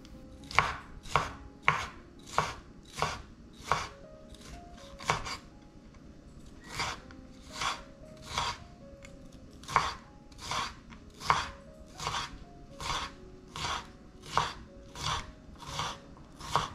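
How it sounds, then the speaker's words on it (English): Knife chopping a red bell pepper into cubes on a board, a close, crisp series of regular thuds, about one per second, steady and alone with no talk. "I will slice it and chop it in cubes."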